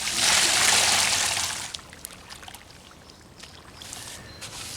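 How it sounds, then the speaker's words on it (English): Water gushes and pours into a dry sand and mortar mix during a basement door install, a loud hissing rush for the first two seconds, then fading to quiet trickles and small splashes. "Now we're going to put some water in it."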